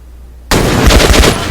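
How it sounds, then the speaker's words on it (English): A burst of AK rifle fire from the Metro Exodus video game breaks a near-silent moment, loud and close, with rapid repeated shots rolling over about a second. "Just listen to how much different the AK sounds"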